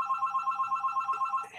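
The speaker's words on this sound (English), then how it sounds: "I wish he answered the phone. My brother never answers that damn thing." Old telephone bell ringing steadily in a fast, even trill for over a second, then breaking off near the end. Moderately loud, with nobody speaking over it.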